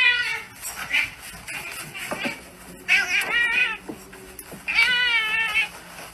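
An orange tabby cat in the video game Stray gives several distinct, drawn-out meows with pauses between them, close and clear over quiet background sounds.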